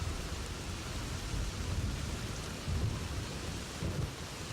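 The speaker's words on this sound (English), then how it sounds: "This rain is heavy." Heavy rain in the video game Fallout: New Vegas pours down in a dense, constant hiss, with low rumbles rolling underneath, like distant thunder.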